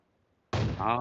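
AWM sniper rifle firing in PUBG Mobile: a single sharp, loud shot bursts out of silence halfway through and rings briefly.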